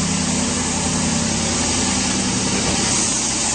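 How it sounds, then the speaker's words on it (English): A 2007 Dodge Ram 1500 engine idling under the open hood, a steady low, smooth hum with even rumble, close and continuous, no voices. "nice clean engine bay, running very smoothly"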